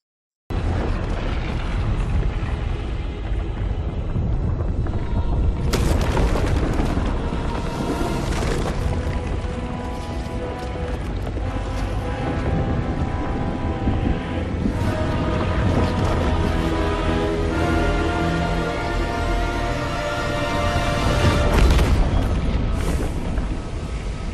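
Loud, dense battle din from a film scene, with sustained rumbling booms and explosions and sharp bursts of gunfire layered over one another, running continuously and alone with no talk.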